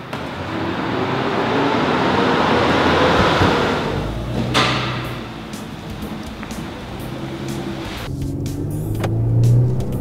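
An Infiniti all-wheel-drive car cruising on the road, with a steady loud interior rumble of engine and tyres throughout and a brief swell of passing noise midway.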